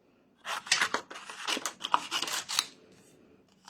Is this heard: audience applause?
no